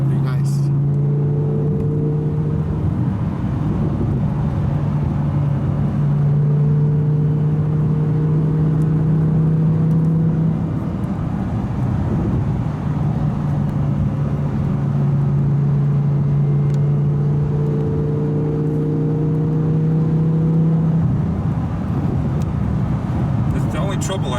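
A 2017 Audi R8 V10 drones steadily from inside the cabin while driving, engine tone rising and falling in long gear pulls, with people talking over it throughout.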